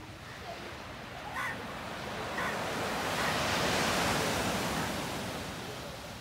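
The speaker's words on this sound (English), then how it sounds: "High gushing waves, good walk, good sea beach" Sea waves gush and wash steadily onto Adgaon Beach in a broad continuous roar that swells toward the middle and eases off, with some wind noise and no talking.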